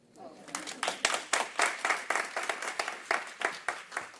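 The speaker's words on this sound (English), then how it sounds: "You can clap." Audience applause at a sheriff candidates' forum, a steady wash of many hands clapping at moderate distance, swelling in regular pulses throughout.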